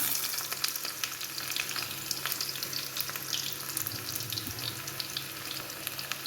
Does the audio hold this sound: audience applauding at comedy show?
no